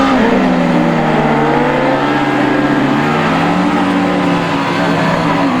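Autograss race cars roar around a dirt track at St Neots, engines revving and droning loudly and continuously with rising and falling pitch as several cars race past together.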